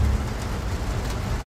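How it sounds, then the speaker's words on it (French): Heavy rain pouring down as a dense, loud, steady hiss around a BMW M3 on the road, continuing alone before cutting off abruptly. "Les cieux se sont véritablement ouverts."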